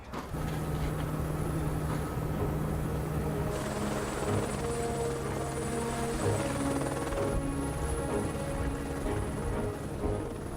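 A helicopter flies over mountains near Abisko, Sweden, its rotor and engine making a steady, loud, continuous drone throughout, with no pauses.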